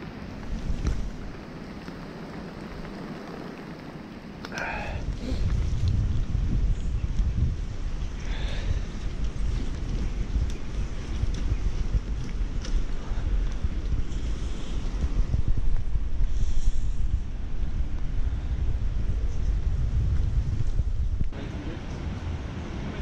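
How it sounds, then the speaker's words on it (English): Strong wind and rain outdoors: a loud, constant roar of wind buffeting the microphone, with a dense hiss of rain running steadily throughout. "I don't know if you can hear the wind, but... And the rain, it is horrible."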